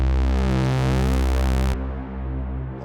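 Guitar chord through an Eventide Space pedal on its black hole reverb, a dense sustained pitched wash that swells and then cuts to a fading modulated tail.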